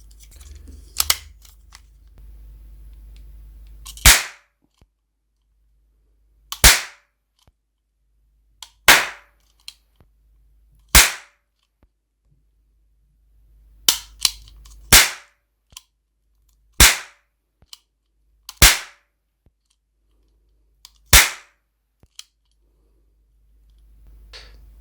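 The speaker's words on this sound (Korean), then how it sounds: "8년발 완구형 화약을 끼우고 격발해 보죠" Vintage toy cap guns loaded with 8-shot caps fire about ten sharp, loud cracks, spaced roughly two seconds apart, with near silence and faint mechanical clicks between shots.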